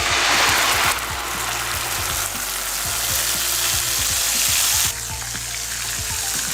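Ground onion hits hot oil with browned cumin seeds and erupts into a loud, steady sizzle, with scraping stirs and clinks of a utensil against the pan throughout.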